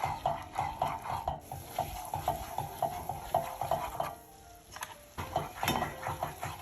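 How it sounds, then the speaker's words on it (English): Red onions stirring and sizzling in a pan, with repeated scraping strokes of a utensil against the metal over a steady close fry and occasional clinks. "we're gonna saute the onions for about 2 minutes"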